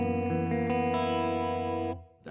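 Electric guitar with effects rings out a dominant 7 sharp 11 chord voicing that uses an open string, sustained for about two seconds with a couple of re-struck notes before it fades, played alone.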